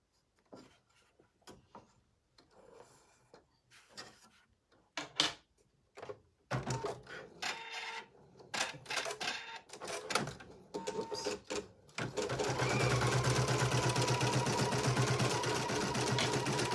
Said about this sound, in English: the first thing it's going to stitch out is the heart outline again